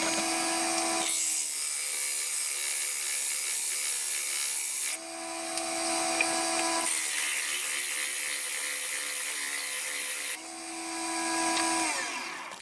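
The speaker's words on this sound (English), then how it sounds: "So I'm just sanding these 2 pieces down first" Steady rasping strokes of sandpaper on two old wooden bowls, continuous for long stretches with short pauses, close and fairly loud, no talking.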